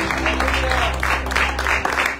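A short burst of applause at a wake service in barrio la Cruz, as mourners clap briefly together in a loud, close wash of hands over a low sustained hum.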